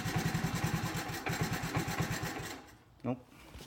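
A Honda motorcycle engine idles with a steady, lumpy putter for a few seconds, then fades out; a brief louder burst follows near the end.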